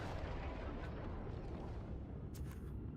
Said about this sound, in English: I absolutely love the rapid pulse cannons, and they feel so good in this update